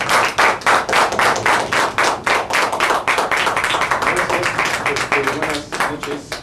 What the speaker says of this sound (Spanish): vamos a recibir con un aplauso